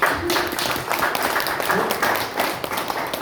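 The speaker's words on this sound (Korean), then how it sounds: "박수 주세요." An audience breaks into applause, dense continuous clapping at moderate volume for a few seconds, with scattered individual claps standing out.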